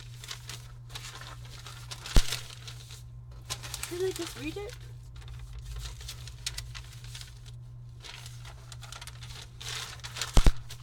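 Sheets of paper rustle and crinkle on a desk in repeated bursts of shuffling, with a couple of sharp taps, while someone talks quietly over the handling.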